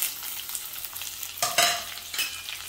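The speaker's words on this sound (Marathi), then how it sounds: "आणि आता कांदा घालते। कांदा आणि आलं लसूण पेस्ट।" Onion with ginger-garlic paste sautéing in a pan for a vegetable pulao, a steady broadband sizzle with a brief louder burst of frying and stirring midway, close and without voices.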